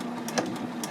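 A sewing machine makes a short backstitch at the end of a seam on a fabric project bag, giving a brief close burst of motor whir with quick needle taps.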